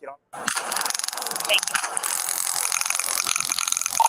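Rapid mechanical clicking of a police officer's taser being deployed during an arrest, a loud continuous crackling ratchet-like rattle lasting several seconds, close and steady.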